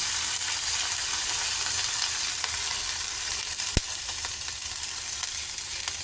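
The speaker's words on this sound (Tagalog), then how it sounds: "Lagyan natin siya ng sabaw." Broth being poured into a pot of chicken tinola, a steady loud hiss and sizzle throughout with one brief sharp knock partway through.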